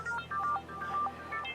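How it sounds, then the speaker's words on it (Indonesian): A telephone in a TV drama rings with short, tonal electronic beeps in a quick repeating pattern, faint and alone. "Ada telepon?"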